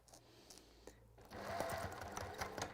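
A sewing machine stitching fabric a quarter inch from the edge, its soft steady whir starting partway through and running on quietly, close but low in level.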